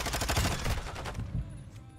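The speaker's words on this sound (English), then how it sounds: "so they just shoot through every wall." Rapid automatic gunfire in Modern Warfare 2 ranked multiplayer, shots punched through walls, one dense close burst that cuts off after about a second and a half, leaving quiet.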